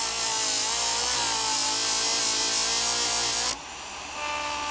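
An abrasive is held flat against a spinning felt wheel, giving a loud, steady grinding rasp that stops abruptly near the end and is followed by a quieter whir as the wheel runs free.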